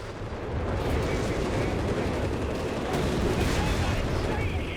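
A rocket artillery barrage in the strategy game Company of Heroes 3 rumbles as a dense, continuous wall of explosions and crackling impacts, loud throughout, with a commentator talking over it.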